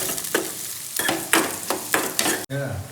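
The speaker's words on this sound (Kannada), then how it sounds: "ಉಳ್ಳಾಗಡ್ಡಿ ಎಲ್ಲ ಹುರ್ಕೊಂಡು ಈಗ ಅದ್ರಾಗ ಹಾಕೊಳ್ತೀನಿ" Sliced onions drop into hot oil in a pan and are stirred, sizzling loudly in repeated bursts of scraping and frying, then easing into a steady lower crackle, with no one speaking.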